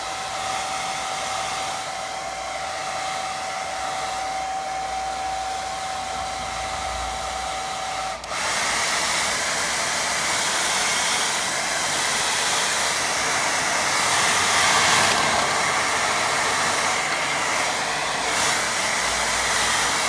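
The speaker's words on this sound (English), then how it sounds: "Right, I'll give that another blast with dryer." Hair dryer blowing steadily and loudly for the whole stretch while drying a watercolour waterfall painting; a constant airy whoosh shifts slightly partway through as the dryer is moved, with no talk over it.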